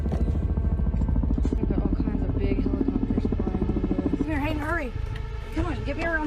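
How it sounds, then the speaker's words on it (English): Large helicopters fly overhead with a loud, steady throbbing rotor beat and engine drone throughout, while a person talks over the noise in the second half. "We've got all kinds of big helicopters flying over."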